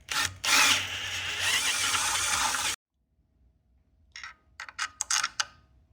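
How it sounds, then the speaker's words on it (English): A power drill with a 1/4 inch bit whines steadily for a few seconds drilling out a metal gudgeon on a Hobie 16 catamaran, then cuts off, followed by quiet, then a few short bursts of drilling. "I have to drill out the gudgeons, the larger with a 1/4 inch bit for the larger screws"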